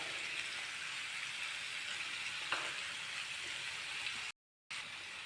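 Sliced onion and curry leaves fry in a pan with a steady, fairly quiet sizzling hiss and a faint rattle partway through, cutting out briefly near the end.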